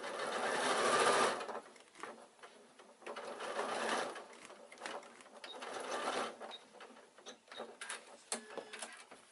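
A sewing machine stitches a seam in leather-look fabric with a quick mechanical chatter, close and fairly quiet, running in several short bursts separated by brief pauses.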